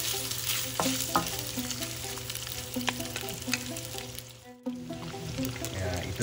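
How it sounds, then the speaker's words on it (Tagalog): Boiled pork frying in a pan for binagoongan, with a continuous close sizzle and repeated scraping and clinking of a utensil stirring, alone without talk. "yung parang nag-i-fry niya po yung pork"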